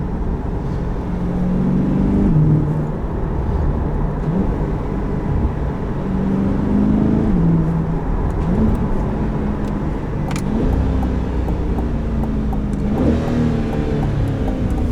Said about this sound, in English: Downshifts, you're a beautiful thing.